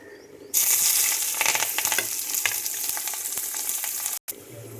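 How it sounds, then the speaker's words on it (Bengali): Chopped onion and green chili hit hot mustard oil with a sudden loud hiss that settles into a steady, close sizzle with light stirring crackles, then cuts out briefly near the end. "আগে থেকে কেটে রাখা পেঁয়াজ এবং লঙ্কা কুচিগুলো গরম তেলের মধ্যে দিয়ে দিচ্ছি।"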